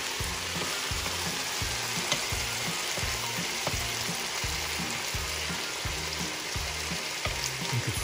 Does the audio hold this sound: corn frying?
yes